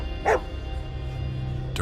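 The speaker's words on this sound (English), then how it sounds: "it started barking wildly" A dog gives two sharp barks, one near the start and one at the end, over a low hum in a quiet indoor room.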